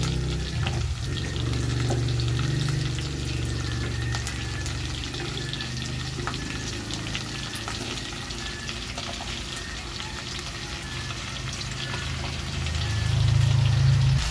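Vegetables fry with pork in a pan for Filipino minudo, giving a steady close sizzle that runs alone throughout and swells louder near the end.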